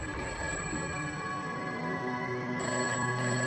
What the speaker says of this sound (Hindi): उस टेलीफोन के बजने की आवाज आई।